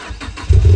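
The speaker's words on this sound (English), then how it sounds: "it's also got a modified exhaust by Million, which sounds like this" A Mazda MX-5 NC with a modified exhaust cranks briefly and catches, settling into a deep, loud, rumbling idle from a throaty exhaust.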